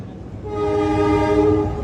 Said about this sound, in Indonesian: ini untuk kereta api Motis Tengah, persiapan masuk di stasiun Pasar Senen ya